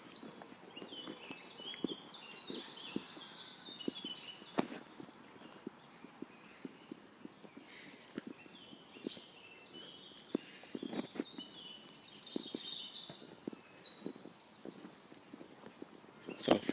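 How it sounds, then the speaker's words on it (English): Woodland birds call and chirp almost without pause in short high bursts, over a low rhythmic clopping or crunching from footsteps, with an insect-like hiss in the background and no talking. "I've not gone one whole second yet without hearing some sort of bird noise."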